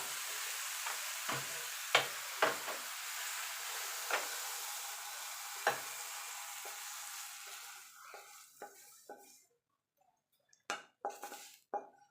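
Makha sandesh, a chhena sweet, stirred and cooked in a pan, with a soft sizzle and scraping and several sharp clinks of a spoon against the pan, the sizzle fading to quiet near the end, then a few final scrapes.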